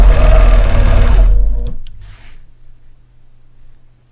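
A sewing machine stitches a quilt with a ruler guide in steady, rapid loud running for about a second and a half, then stops, leaving a few faint clicks and a low hum.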